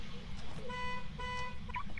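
Car alarm in the game Phasmophobia honking in repeated short bursts, a steady pulsing horn tone over low background rumble.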